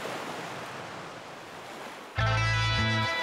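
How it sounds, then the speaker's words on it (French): Ocean waves wash steadily onto the shore at night as a soft, continuous hiss. Partway through, a loud, steady humming tone cuts in and dominates the rest. "Le père et la fille se retrouvent seuls avec le bruit des vagues."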